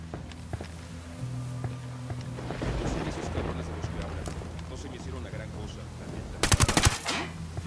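Heavy machine gun fire in the tactical shooter Ghost Recon Wildlands, a loud rapid burst near the end that follows a stretch of game ambience, footsteps and voices talking.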